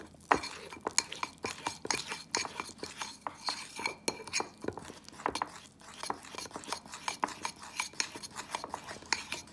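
Cream cheese icing is mixed by hand in a bowl with a spoon, giving irregular clinks and taps of utensil against the bowl over quiet scraping, with a few soft murmurs.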